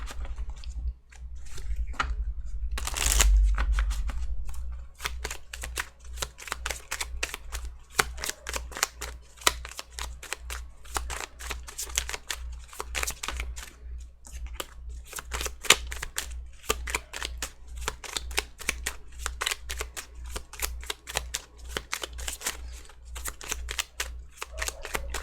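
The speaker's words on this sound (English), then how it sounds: "you make me shuffle forever" Tarot cards being shuffled by hand, a long run of quick, crisp riffling flicks and taps repeating steadily at close range, fairly quiet, after a brief low thump at the start.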